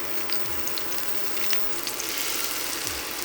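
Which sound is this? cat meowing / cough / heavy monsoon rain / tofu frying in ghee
tofu frying in ghee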